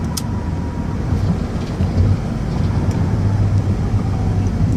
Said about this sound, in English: I'm going to give the van a hard brake, like I said, coming down this ramp